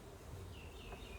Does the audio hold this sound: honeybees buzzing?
yes